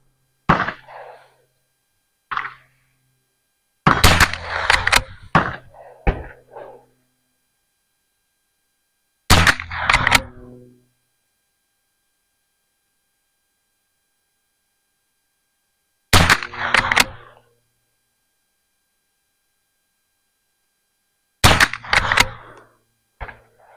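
A Volquartsen Summit .22LR straight-pull rifle fires five sharp, close shots spaced several seconds apart, each followed by a short echoing tail, with occasional brief talk between shots.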